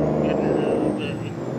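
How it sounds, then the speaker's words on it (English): A Cummins N14 truck engine in a Ford LTL 9000 in American Truck Simulator, a steady low droning rumble with a faint high whine above it, close and even throughout. "I love the sound of this N14."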